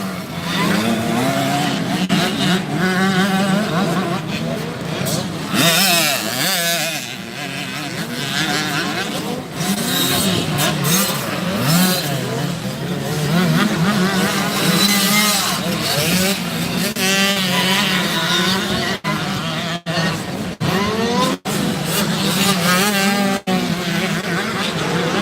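65cc motocross dirt bikes in the 10-11 class race at Muddy Creek, Tennessee, their high-pitched two-stroke engines wailing and revving continuously, several bikes overlapping nearby while an announcer talks over the racing.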